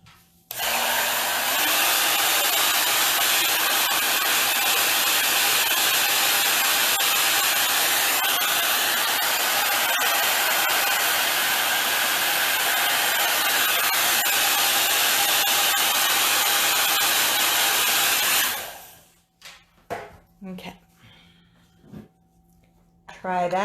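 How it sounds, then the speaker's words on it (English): Hair dryer blowing on painted books for a snowman book stack, a loud continuous whoosh lasting most of the clip that cuts off abruptly, followed by quiet handling sounds and brief speech. "Grab the hair dryer."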